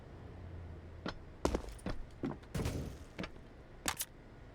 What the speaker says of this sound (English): Bullets whizzing by him.